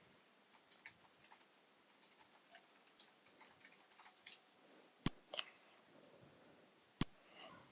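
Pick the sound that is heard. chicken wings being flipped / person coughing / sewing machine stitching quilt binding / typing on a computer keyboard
typing on a computer keyboard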